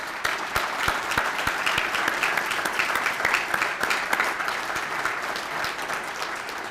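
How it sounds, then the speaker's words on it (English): An audience at a 2019 State of the City and County event for a growth council claps steadily for city and county staff, a loud, even wash of applause with sharp individual claps standing out throughout. "Let's give them a round of applause."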